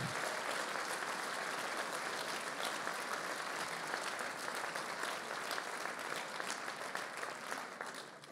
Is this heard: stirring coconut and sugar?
no